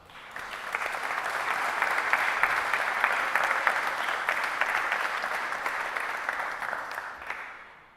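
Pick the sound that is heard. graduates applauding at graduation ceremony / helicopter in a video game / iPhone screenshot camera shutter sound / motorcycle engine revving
graduates applauding at graduation ceremony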